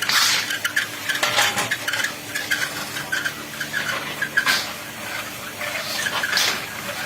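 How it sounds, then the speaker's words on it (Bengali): Rice being stirred by hand in a kadai to make puffed rice, a steady scraping and rustling with metallic scrapes and clinks that rises and falls in repeated strokes, close and fairly loud, with no talk. "এই তৃতীয় কড়া থেকে আবার চালটা তোলা হচ্ছে এটা ভাজার জন্য তোলা হচ্ছে"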